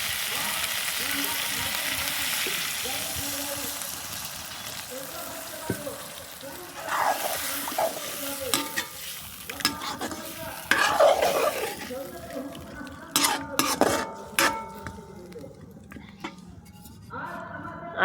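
Stirring and sizzling in a wok as water goes into chicken curry with potatoes, the frying hiss dropping into softer bubbling with scattered spoon and pan clinks, close and moderately loud.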